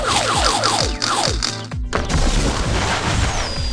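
Cartoonish tank cannon fire and explosions from the Puppy Patrol kids' adventure game, a rapid series of loud booms and blasts with descending whistling tones, dense and continuous over music.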